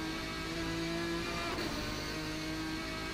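RSS GT1 race car engine in Assetto Corsa at Road America, accelerating out of a corner, a steady droning note rising gently in pitch, fairly quiet and continuous.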